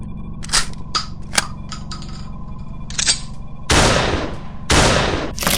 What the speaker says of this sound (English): draws his shotgun, opening fire